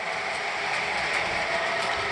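A model train on a team track runs around a layout, giving a steady, continuous rolling rumble with faint clicking that stays close and even throughout, with no voices.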